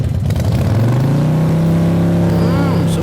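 A motorcycle engine revs hard and holds near full throttle during an exhaust loudness test, its exhaust drone climbing in pitch and staying loud and close throughout.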